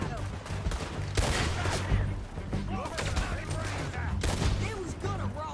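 Rapid gunfire in Red Dead Redemption 2, a sustained volley of overlapping shots with bursts and crackling reports, loud and close, with voices talking over the shooting throughout.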